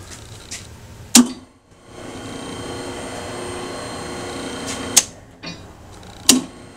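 A Hobart D340 mixer fitted with a new single-phase motor starts up with a sharp clunk and runs with a steady motor hum for a few seconds. Loud clacks break in near the end, likely shifting or switching, before it winds down.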